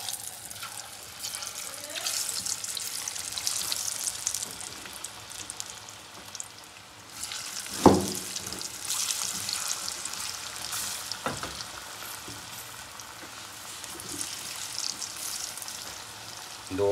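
Besan-coated potato pakoras drop into hot oil and fry with a steady, close sizzle and crackle, with a sharp clatter partway through and softer sizzling afterward.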